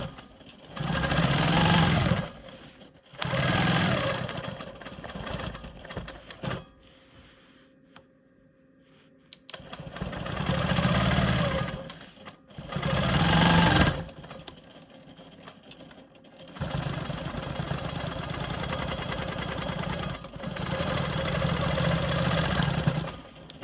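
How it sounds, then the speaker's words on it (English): A Quilt Maker Pro 20 sewing machine stitches a quilt block in several close, loud bursts of rapid whirring stitching separated by short pauses. "I'm going to go ahead and stitch up."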